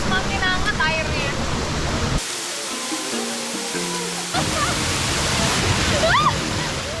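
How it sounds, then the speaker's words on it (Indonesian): A small natural warm-water waterfall splashes and gurgles over rocks in a river, a steady bright wash of water broken by a musical interlude in the middle, with a voice talking over parts of it. "saya pun tergoda mencoba gemericik air terjun mini ini nih"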